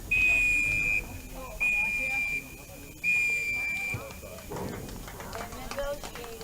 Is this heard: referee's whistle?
yes